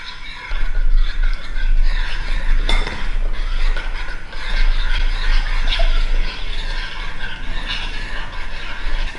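Flour stirred into yeast water for pizza dough in a bowl, a continuous scraping and clinking of utensil against the vessel, fairly loud and close with no talk.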